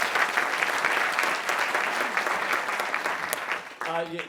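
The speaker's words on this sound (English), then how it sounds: "A round of applause for that pitch, ladies and gentlemen." A conference audience applauds after a pitch, steady dense clapping from a large crowd that fades out as a voice begins speaking at the end.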